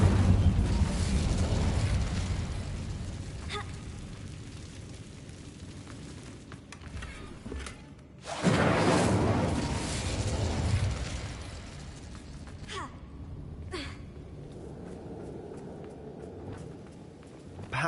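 Incendio fire spells cast in Hogwarts Legacy, with a roaring rush of flame at the start, a second loud fiery whoosh midway, and scattered sharp pops and crackles between quieter stretches of game ambience.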